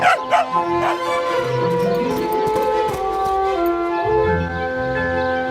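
A dog named Kanuto playing fetch gives a few quick barks and yips at the start, close by, then a ringing musical tone carries on over the rest.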